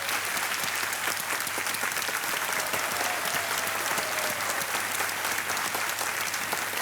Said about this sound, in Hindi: तालियां बजते रहे इनको.